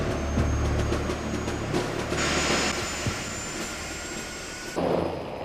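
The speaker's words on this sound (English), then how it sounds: "This was to be the world's first delta-wing jet bomber," Avro Vulcan XH558 delta-wing jet bomber, an RAF aircraft, flies with a loud sustained engine roar and a shrill high whine, the noise swelling and shifting as it passes.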